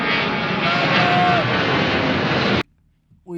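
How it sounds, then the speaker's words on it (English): A loud, close airplane engine roars steadily for a few seconds, then cuts off abruptly into near silence before a brief sound at the end. "I think I would catch this plane right now for a sick reel"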